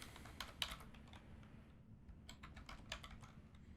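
Typing on a computer keyboard while setting up a Windows 10 virtual machine, heard as quiet, close key clicks in two short bursts separated by a brief pause, with no talk over them.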